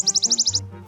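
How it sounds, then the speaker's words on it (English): A recorded wood warbler sings a quick high trill of about seven rapid, evenly spaced notes, brief and clear, then stops. "lure his target with a recording of another wood warbler singing"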